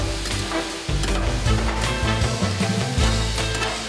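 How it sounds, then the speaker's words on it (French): Pumpkin with a little sugar stirred in a hot pan gives a steady sizzle with scraping stir strokes, close and continuous, with no one speaking. "vas-y, on remue un petit peu, juste pour sucrer le potiron"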